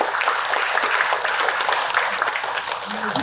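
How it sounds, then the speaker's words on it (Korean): Steady applause from an audience at a Korean theology academic festival, as a woman theologian is welcomed to the podium; dense, continuous clapping fills the room throughout. "박수를 맞아주세요"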